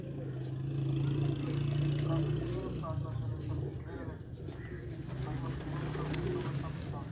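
Breeder pigeons on a rooftop give low, repeated coos over a steady background hum, while someone talks nearby throughout.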